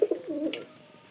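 A pigeon gives a short, close cooing call, a couple of soft throaty notes followed by a brief rolling coo that fades out.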